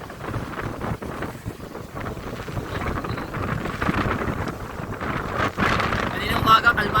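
Strong typhoon winds of Super Typhoon Uwan batter the coast at Nasugbu, Batangas, roaring and buffeting the microphone in gusts, with a rough, continuous rush near the sea.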